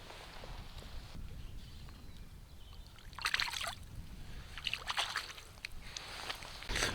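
Flooded river water sloshes and splashes in short bursts as a chub is held in the current, quiet and close, over a soft constant flow.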